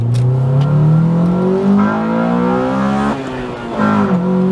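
A restored Honda EK9 Civic Type R engine revs hard under full throttle, its pitch climbing steadily, dipping briefly at a quick gear change, then rising again, loud and close.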